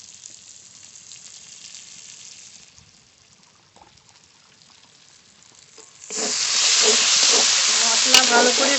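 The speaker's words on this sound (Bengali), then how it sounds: "মশলা ভালো করে কষিয়ে নিয়েছি, মশলা থেকে তেল ছেড়ে দিয়েছে" Spice paste frying in oil in a pan for a prawn malai curry, faint at first, then a loud bright sizzle bursts in partway through and continues steadily with a few clinks.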